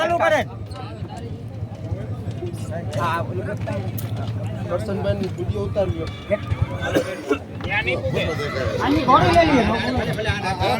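A mare neighs amid a noisy village fair horse race, her whinnies rising through loud nearby commentary and crowd chatter, with a clearer call near the end.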